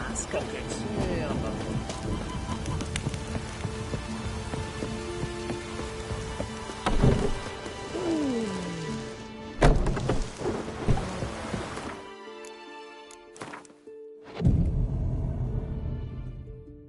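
Heavy rain and rolling thunder in The Witcher 3, a constant downpour broken by several loud thunder cracks and rumbles, with game characters speaking over the storm.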